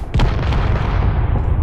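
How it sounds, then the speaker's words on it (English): Four-barrel reloadable rocket launchers firing in Space Engineers, heard as a loud, continuous booming roar of blasts and rumbling explosions with no break. "we've got rocket launchers here"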